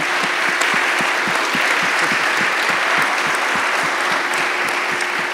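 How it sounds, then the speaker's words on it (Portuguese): Audience applause at a church teaching session in Portuguese, as a guest speaker is thanked: a dense, steady wash of many hands clapping at even loudness for the whole stretch, with no voices on top. "Gostaria que a gente agradecesse o Caleb com uma salva de palmas"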